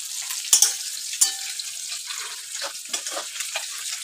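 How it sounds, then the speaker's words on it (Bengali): Onions frying in a pan during home cooking, a steady hiss of sizzling oil with a few sharp crackles and pops near the start, close and without talk. "এখন পেঁয়াজ ভাজা চলছে"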